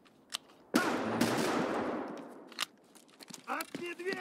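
Gunfire in Escape From Tarkov: one sharp, loud hip-fired shot rings out and decays over about a second, followed by faint shuffling and a few short voices talking.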